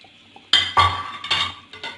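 A utensil scrapes and clinks against a pan while suji halwa is stirred, several sharp close metallic strokes in an uneven rhythm.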